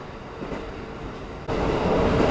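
A train rolls steadily along the rails near Kitami, Hokkaido, with a constant rumble, growing noticeably louder and harsher partway through as the wheels roar over the track at about 80 km/h.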